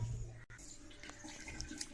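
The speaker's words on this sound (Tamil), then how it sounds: "இப்போ நம்ம தண்ணியை வந்து ஓப்பன் பண்ணிட்டு வந்துடலாம்" Water runs from a water tap that was just repaired to stop a leak. A faint, steady rushing hiss continues throughout, broken only by a brief dropout near the start.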